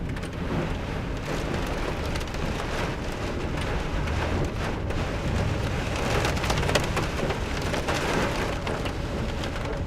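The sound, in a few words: heavy rain during a storm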